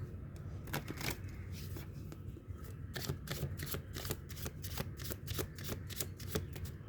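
A deck of tarot cards riffled and shuffled by hand, a continuous papery flutter broken by rapid snapping bursts, close up over a low steady background hum.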